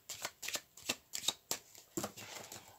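Tarot de Marseille cards, just the major arcana, are shuffled in a series of about seven crisp riffling bursts with short pauses between them, close and clear with no talking.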